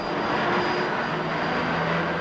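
A jet engine of a carrier aircraft on the deck of HMS Ark Royal in 1974 roars loud and steady as it winds up, with a continuous broadband rush and a high whine running throughout.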